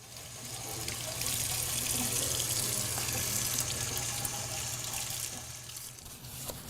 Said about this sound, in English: I'm ready to take it to a sink with running water and we'll just rinse it off.